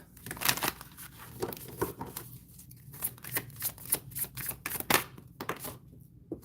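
Tarot cards are shuffled in quick riffling bursts with short pauses between, close by and fairly quiet.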